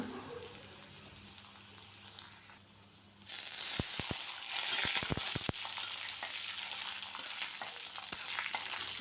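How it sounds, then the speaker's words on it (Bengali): Bay leaf, nigella seeds and cumin hit hot oil for a tempering, and a quiet kitchen suddenly bursts into loud, continuous sizzling with sharp crackles and pops. "এই যে ফোড়নে তেজপাতা দিয়ে দিলাম, এখন হচ্ছে কালি জিরা আর জিরা দিয়ে দিব"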